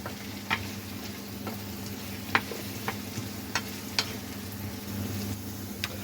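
Chicken and fried potatoes being stirred together in a pan for butter-curry chicken, steady soft sizzle with scattered scrapes and clicks of a utensil against the pan, fairly quiet and close, no talking.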